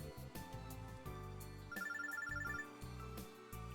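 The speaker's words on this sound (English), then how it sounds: "the phone droid in my bag starts to ring." A phone droid rings from inside a bag in the video game Robotics;Notes Elite, a bright electronic ringtone trilling in a repeating melodic pattern over steady game music, loud and close.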